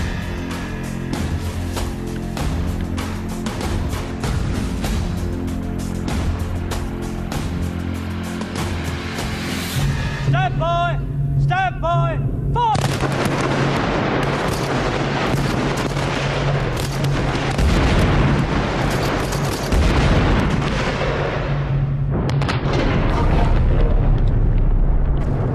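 Five rifles fire in a volley, sharp cracks and booms overlapping in a continuous loud fusillade outdoors, with a pause and then more rolling shots and echoes.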